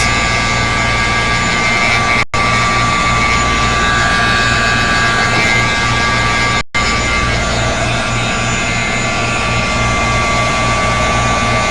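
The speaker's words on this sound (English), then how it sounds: "I'm going to hit this with the heat tool to just kind of dry up some of these excess spots" A handheld heat tool blows hot air to dry wet paint on a mixed media layout, a loud, steady whooshing roar that runs continuously, broken by two brief cutoffs.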